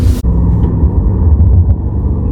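A BMW M5 Competition accelerates at full throttle on a wet road, its engine roaring loud and close in a steady, low, heavy drone heard from inside the cabin.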